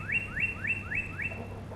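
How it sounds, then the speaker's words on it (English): A bird chirps nearby: five quick rising whistled notes in an even rhythm, clear and fairly loud over a low steady background hum. "dang, this bird."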